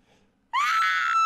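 A sudden, sustained high-pitched scream rings out in the Corpse Party Book of Shadows horror video game, loud and piercing after near silence.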